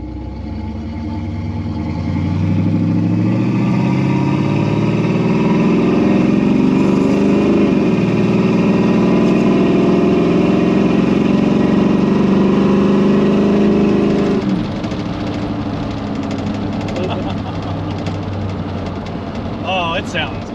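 A Pontiac Firebird V8 pulls uphill under sustained throttle with a loud, rising engine drone that builds and then eases. Talking is audible in the cabin.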